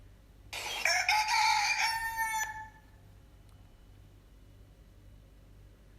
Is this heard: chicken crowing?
yes